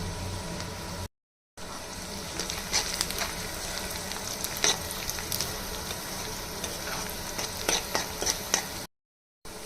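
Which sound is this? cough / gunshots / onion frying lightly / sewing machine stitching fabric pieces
onion frying lightly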